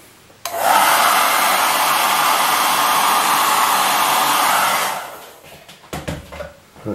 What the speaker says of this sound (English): I'm going to get that hair dryer for a tick and just